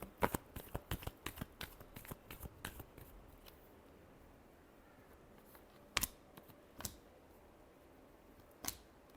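Tarot cards being shuffled by hand, a quick run of crisp riffling snaps at first, then sparse isolated taps and flicks, close and quiet, with no voice.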